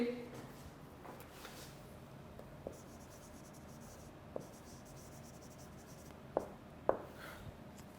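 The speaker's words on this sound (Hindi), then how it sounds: "मैं लिख देता हूँ आपके लिए" A lecturer writes on a board in a classroom: faint, scattered scratches and sharp taps, with a few louder clicks near the end, over a quiet room hum.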